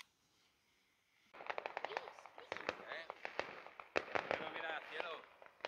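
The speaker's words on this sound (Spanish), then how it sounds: "Y encima te han puesto fuegos artificiales" Fireworks and firecrackers burst at night on the Virgen del Carmen celebration, a rapid irregular volley of sharp cracks and pops at moderate distance after a quiet start.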